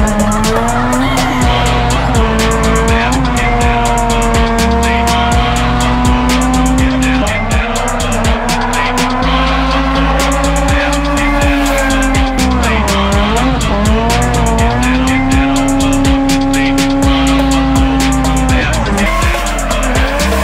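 A supercharged Mazda RX8 drifts with long, loud tire squeal over a high-revving rotary engine note that rises and falls as it slides, close and sustained throughout.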